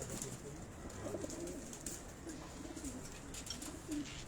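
Pigeons coo in soft repeated low calls at moderate distance over a steady outdoor background, several coos spread across the stretch.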